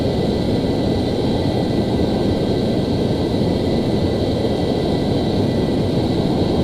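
An F-14 jet in Flight Simulator X flying over Turkey at about 400 knots: a steady, loud engine roar and rushing air that holds without change, with no voices.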